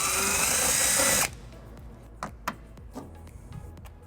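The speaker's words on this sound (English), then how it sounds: "And then we'll tighten it using a 3/8 socket." Power drill whirring steadily for about a second while driving a bracket bolt with a 3/8 socket during a wiring harness install on a 2014 Lexus RX350, followed by quiet clicks and handling noises.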